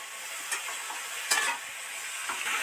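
A potato, cauliflower and pea momo filling being stirred and sautéed in a pan: a steady soft sizzle with a few louder scraping strokes of the spoon, no talking.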